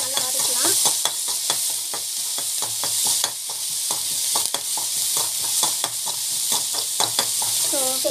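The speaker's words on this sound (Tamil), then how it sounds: "இதை வந்து நல்லா வதக்கலாம்." Steady loud sizzling in a frying pan with rapid, regular scraping strokes of a spoon stirring and sautéing throughout, close up and without talking.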